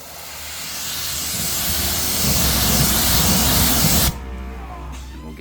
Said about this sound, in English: our sweet, really old pressure washer that definitely does not want to work anymore.